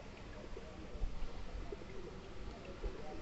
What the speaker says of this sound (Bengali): যে কবুতরের ডাক দেখেন কবুতর অসাধারণ ডাক